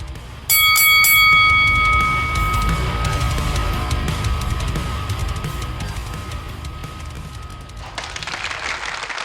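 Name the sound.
wrestling bell ringing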